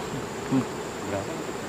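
Wild forest honey bees at a hive deep in Sumatran forest produce a faint, steady buzzing hum with a brief louder pass, no voices.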